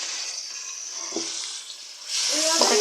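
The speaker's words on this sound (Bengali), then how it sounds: "পেঁয়াজটা একটু ভাজা ভাজা হয়েছে এখন এই যে আদা রসুন আর জিরা একসাথে বাটার দিয়ে দিতেছি" Onion fries in a pan as a ginger, garlic and cumin paste goes in: a soft, steady sizzling hiss with a brief clatter midway, then a louder burst of frying near the end.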